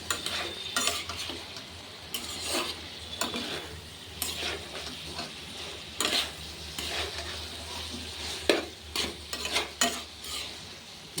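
Soybean kosha curry stir-fried in hot oil, a spatula scraping and turning it in the pan in repeated strokes over a steady sizzle, close and fairly loud, with no voices.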